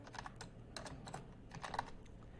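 Computer keyboard typing close by, a few quick bursts of soft key clicks in short clusters, quiet and alone.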